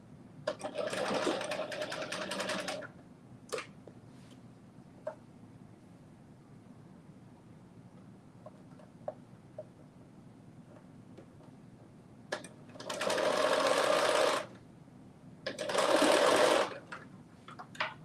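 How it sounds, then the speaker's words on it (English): A domestic sewing machine stitching during a live sew-along, running in three loud sustained bursts at the start and near the end, separated by quieter stretches with small clicks and handling sounds. "I'm just making sure I'm not stitching over anything."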